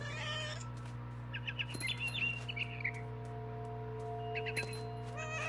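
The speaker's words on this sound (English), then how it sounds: "Then I heard chirping outside my window. It was a barn swallow going back to her nest." A barn swallow chirps in short, scattered bursts near its nest in What Remains of Edith Finch, high twitters over a constant low hum with no voices.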